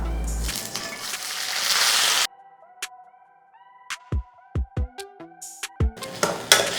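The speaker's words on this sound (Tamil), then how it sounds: "வெங்காயம் வந்து நல்லா அரைச்சிட்டு இப்படி நல்லா வதங்கணும்" Ground onion paste sautéing in a pan, a loud broadband sizzle at first, then a quieter stretch of sharp clicks and scrapes as the paste is stirred, and the sizzle returning at the end.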